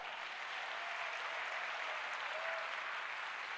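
A church congregation claps and cheers in a continuous, dense wash of applause, moderately distant and even in level from start to finish.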